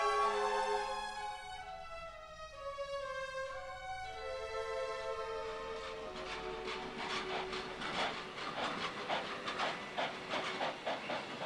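Massive 151 TC steam locomotives push cuts of wagons over a rail yard hump. A sustained, multi-toned whistle blast gives way to hissing steam and a quickening run of rhythmic chuffs from fairly far off.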